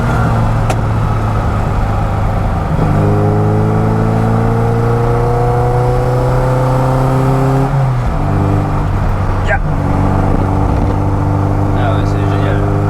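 Engine of a Mini Cooper Innocenti 1300 on the move, a loud, close droning growl that climbs steadily in pitch, drops sharply at a gear change and then climbs again, with a voice talking briefly over it.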